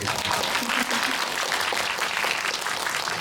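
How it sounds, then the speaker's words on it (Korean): A cinema audience at a film screening with a guest visit claps steadily, a broad, even wash of many hands at moderate distance lasting throughout without pause. "저희 박수 한번 부탁드리겠습니다"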